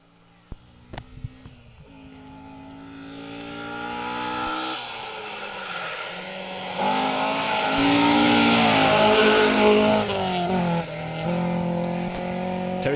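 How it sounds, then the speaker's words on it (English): A BMW 2002 Ti rally car on a Welsh forest stage of the Woodpecker Rally, its mid-pitched engine rising through the gears as it approaches and passes close by, loud and revving hard, with tire noise and no talking. "Richard Shaw's down from Malton in Yorkshire in that stunning BMW 2002 Ti."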